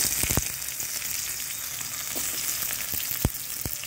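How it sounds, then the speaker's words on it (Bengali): Potatoes fry in mustard oil in a wok, a continuous bright sizzle with occasional sharp pops and stirring knocks scattered throughout. "আলুগুলো ভেজে নিচ্ছি।"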